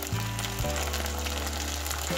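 Minced meat with tomato frying in a pan as the water boils off, giving a steady, close sizzle under a low, constant hum, with no voices.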